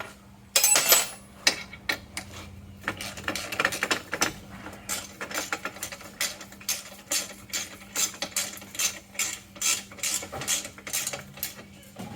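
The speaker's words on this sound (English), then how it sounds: "I'm going to start by bolting both sides together with just a piece of scrap bar stock" Scrap steel bar stock being bolted across a pair of junkyard WRX seats for a Jeep Wrangler YJ, with repeated ratcheting clicks and metallic wrench turns in a steady rhythm, close and moderately loud, with no talking.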